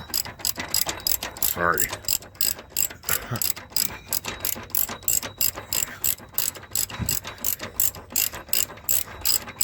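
A ratchet, extended with a length of steel pipe, works long truck running board bolts loose, giving a rapid, steady run of close, sharp metallic clicks, with a brief spoken word partway through.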